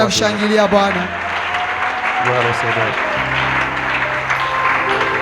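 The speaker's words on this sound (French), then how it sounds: "Est-ce qu'on peut acclamer très fort?" A church congregation gathered for a Tuesday service applauds loudly and steadily, with continuous clapping under tonal music or singing and some voices in the crowd.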